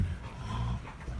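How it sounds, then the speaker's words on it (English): A rowdy puppy pants close by, with steady breathy huffs running the whole moment; the jumping itself is not distinctly heard. "I have a rowdy puppy who keeps on jumping in"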